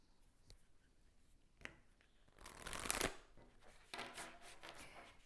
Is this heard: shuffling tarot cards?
yes